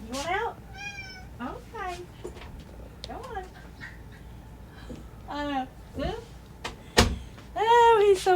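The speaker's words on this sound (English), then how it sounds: "Did you hear him meowing?" An indoor house cat meows repeatedly and insistently at close range, a run of rising and falling cries with short pauses, plus a sharp knock or door sound near the end.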